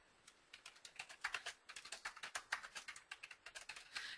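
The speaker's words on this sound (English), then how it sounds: "You type in your document here." Quick, light keystrokes tap on a computer keyboard in an uneven but continuous rhythm, close and quiet with no voices.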